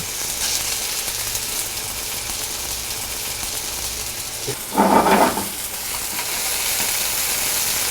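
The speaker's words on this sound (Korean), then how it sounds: "마늘과 양파가 색이 날 정도로 볶아주시면 됩니다" Sliced garlic and onion sizzle steadily in a hot pan for a cream pasta, a continuous close frying hiss broken by a brief louder burst of clattering stirring midway.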